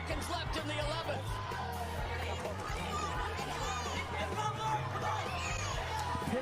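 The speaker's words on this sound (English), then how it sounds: "The crowd becoming more boisterous." A boisterous boxing crowd fills the Alamo Dome late in a 126-pound title fight, a dense steady roar of chatter and shouts with scattered yells and whoops throughout.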